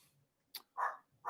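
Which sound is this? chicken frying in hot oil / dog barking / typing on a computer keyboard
dog barking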